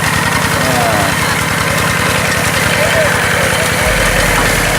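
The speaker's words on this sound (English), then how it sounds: "that's a little tractor they used to move this thing with." A small tractor engine idling close by, a loud steady rhythmic chug with a throbbing low pulse that shifts near the end, heard during rice harvesting.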